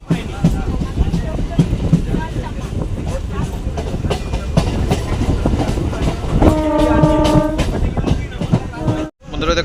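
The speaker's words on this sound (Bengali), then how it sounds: "ট্রেন ছেড়ে দিয়েছে" A train pulls out of a station on the Howrah line, a loud close rumble with clattering wheels, and a long horn blast sounds midway before the noise cuts off briefly near the end.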